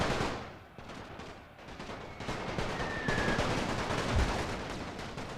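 Sustained gunfire rattles through a war video game set in the Great War, with dense machine gun bursts and scattered rifle shots layered over distant battle noise, rising and falling without voices.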